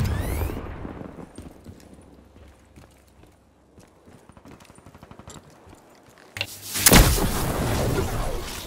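A grenade blast in the video game Call of Duty: Black Ops III, a sudden loud broadband burst near the end, after quieter combat clatter and footsteps.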